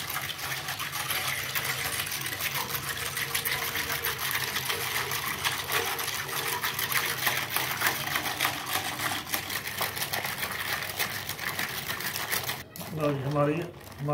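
A kitchen mixer blends a sattu drink with ice and water, a loud, steady whirring and rattling drone that runs continuously for about twelve seconds before cutting off, followed by a short burst of speech.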